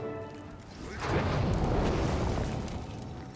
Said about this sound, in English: I've never seen an explosion collapse on itself like that.